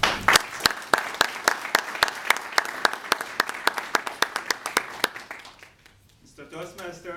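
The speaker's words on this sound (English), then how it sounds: "Let's welcome Mustafa." An audience applauds to welcome a speaker at a Toastmasters meeting, with a steady run of loud, sharp claps that fade out after about five seconds, followed by a voice beginning to talk.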